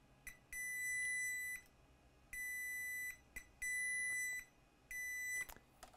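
Continuity beeps from a digital multimeter in diode mode, probing a capacitor on a Crucial 500GB SSD board with power disconnected: four steady electronic tones of about a second each, separated by short gaps, clear over a quiet background.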